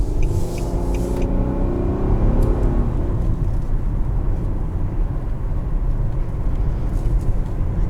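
A 2020 Nissan Murano SL crossover cornering on a road, steady low rumble of engine and tire noise from inside the cabin, with a brief brighter swell of sound in the first couple of seconds that settles into a constant drone.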